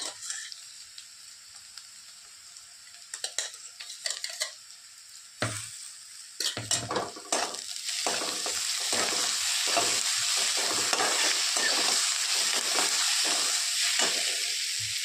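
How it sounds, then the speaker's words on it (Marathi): Onions frying in a pan for a potato bhaji, at first with sparse scraping stirs and pauses, then a steady loud sizzle with repeated spoon strokes against the pan. "कांदा थोडंसं लाल झाला, जास्त लाल करत नाही."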